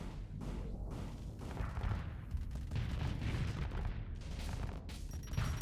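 Ship weapons fire in the space combat game Starsector: dense, continuous barrages of booming shots and explosions overlapping one another at steady loudness, with no talking.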